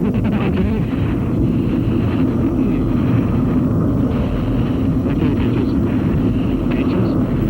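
Northrop T-2 jet aircraft spinning and gyrating in flight, a loud, steady, dense roar of jet engine and wind noise that holds unbroken throughout without distinct events.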